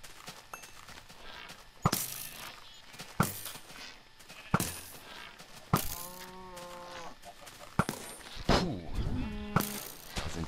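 Minecraft sheep bleat in wavering cries amid the video game's sounds, with sharp hits or thuds breaking in at regular intervals and a few bleats overlapping near the end.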